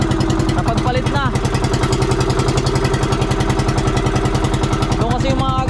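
Boat engine thumping in a steady, loud, rapid rhythm as the boat enters a river, struggling and prone to stalling at low throttle, with someone talking over it.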